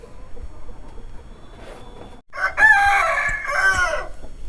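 A fighting rooster for sale in Ongole crows loudly and close by after a couple of seconds of quieter background clucking and rustle, the strained call stretching over about two seconds.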